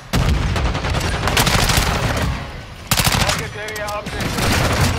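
Rapid automatic gunfire with a suppressed weapon in Call of Duty Modern Warfare 2 on the Shipment map, loud dense bursts almost throughout with a brief lull, excited players' voices underneath.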